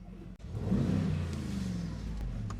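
A 2025 Mercedes G-Class 63 AMG V8 engine idles with a deep, steady rumble that swells briefly, running close and continuous after a short click.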